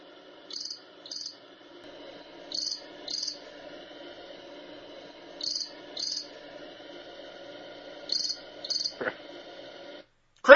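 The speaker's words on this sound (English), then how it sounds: "Crickets are working overtime this week." Crickets chirp in short paired bursts, repeating at intervals over a faint steady hum, with a brief click and a sharp noise near the end and no speech.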